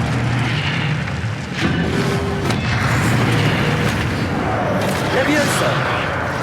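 An Expelliarmus spell cast against zombie brutes in Hogwarts Legacy, heard as a dense, roaring burst of magical combat effects with low booms that fill the whole stretch, layered over continuous game noise.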